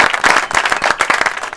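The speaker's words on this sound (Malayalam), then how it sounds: "ഒരു കയ്യടി കൊടുക്കുക." Schoolchildren in a classroom clap together in a brief, close burst of rapid, dense, uneven claps.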